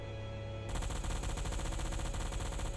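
Anti-aircraft guns on a submarine deck in Silent Hunter 4 fire in a steady, rapid rattling burst, loud and continuous after a short lead-in of background hum.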